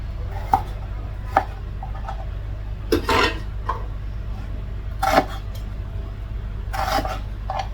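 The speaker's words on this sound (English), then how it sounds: "I'm just chopping these into smaller bits just to make the blender's job easier" Knife chopping seasoning ingredients into smaller pieces on a board before blending for curry chicken, a handful of sharp, irregular chops spaced apart over a steady low hum, with no talking.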